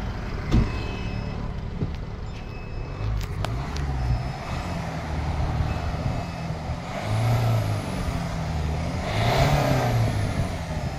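A car engine revs repeatedly in a service centre during engine decarbonising, a loud close rumble rising and falling in several pushes, with a pneumatic hiss and shouted voices nearby.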